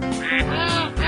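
Ducks quack loudly and close by in a quick run of nasal, buzzy calls filling the short moment, with no talking.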